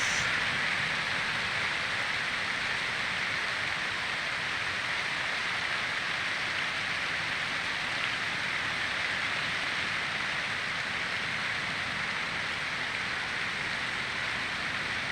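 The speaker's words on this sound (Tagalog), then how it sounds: "lakas ng ulan, malakas ang ulan" Heavy rain pours steadily near a mahogany plantation, a dense, even hiss of falling water that holds constant throughout with no voices.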